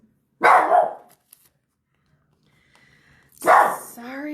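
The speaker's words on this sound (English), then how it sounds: "He likes to bark at everybody outside." Chico, a dog indoors, lets out two loud, close barks about three seconds apart at someone outside, with silence between the outbursts.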